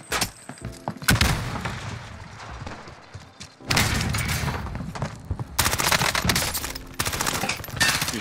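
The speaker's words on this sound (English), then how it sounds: "You stop shooting at me." Gunfire in Call of Duty Warzone from an M13 rifle loadout: rapid automatic bursts and heavy shots in several loud, dense volleys separated by brief lulls, with thumping impacts mixed in and no talk over them.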